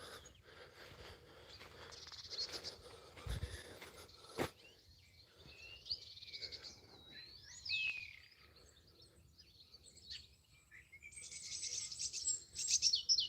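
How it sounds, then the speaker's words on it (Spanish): Small birds chirp and tweet among strawberry tree shrubs while feeding on the fruit, with scattered short calls and a few sweeping whistles at moderate distance, plus a brief low thump and some light background noise. "los pájaros a comer los madroños"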